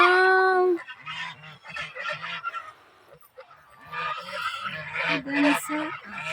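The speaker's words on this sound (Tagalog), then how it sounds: "Gansa." Geese honk repeatedly on a poultry farm, loud nasal calls in irregular bursts from a flock at close to middle distance, with people talking between the calls.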